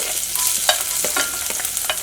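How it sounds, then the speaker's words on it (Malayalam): Carrots are stirred into a frying pan already holding finely chopped green chillies, giving repeated close scraping strokes over a light, steady sizzle with no talking. "ഇതിലേക്ക് ക്യാരറ്റും ചേർക്കാം."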